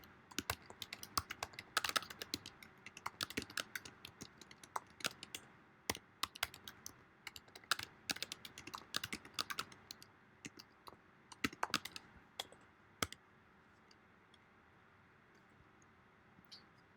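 Quiet close computer keyboard typing while writing JavaScript code, irregular bursts of key clicks with short pauses, fading to sparse taps near the end.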